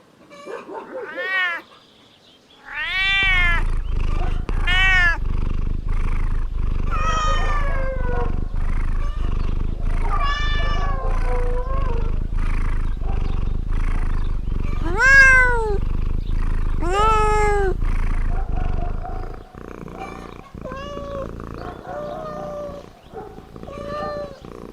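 Several domestic cats meow in repeated overlapping calls, some drawn out and wailing like caterwauls, over a steady low background hum, loud and close, with a few fainter meows trailing off after the hum stops.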